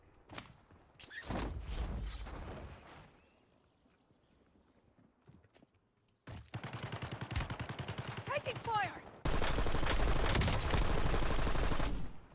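Gunfire in the Warzone battle royale game on the Verdansk map comes in rapid bursts, with a sustained loud volley near the end, mixed with in-game hoofbeat-like thuds and a player talking.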